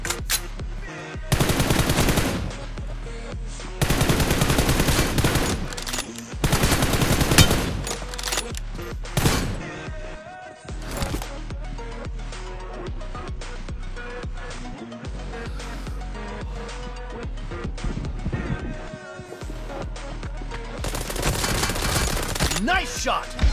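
Gunfire in a team deathmatch video game shooter, with dense bursts of rapid automatic fire and single shots crackling loudly over a steady backdrop of game music and effects.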